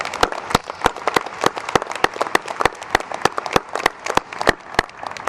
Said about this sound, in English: Let's give another round of applause to our PhD in Native Voices students